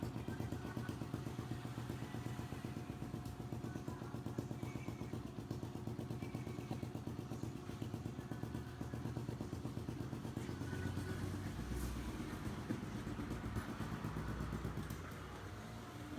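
A Honda Biz 125 motorcycle engine, freshly rebuilt with a new piston, gasket set and spark plug and a machined head and cylinder, idles with a steady, even putter and light clatter that runs close and unbroken throughout.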